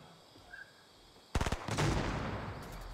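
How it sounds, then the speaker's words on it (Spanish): Gunfire in Fortnite erupts abruptly as a rapid burst of loud, close shots, then continues as dense, sustained firing with echoing booms, with no talking over it. "Oh, están disparando a alguien."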